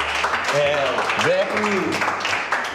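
Applause marks the opening of a hospital's first business room, steady clapping that starts out mixed with a few voices calling out, fairly close.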